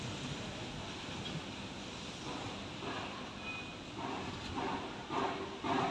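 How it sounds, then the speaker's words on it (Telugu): Strong gusting wind blows before rain in Hyderabad, a broad rushing roar that swells in bursts toward the end, fairly faint and without voices. "మీకు గాలి సౌండ్ వినపడుతుంది అనేసి అనుకుంటున్నాను"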